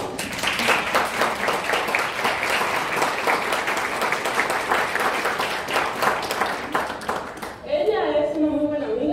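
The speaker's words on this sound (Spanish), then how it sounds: "Todos te vamos a dar un aplauso" An audience applauds a friend standing up at the back of a talk, steady dense clapping through most of the stretch, then fading as a voice starts speaking near the end.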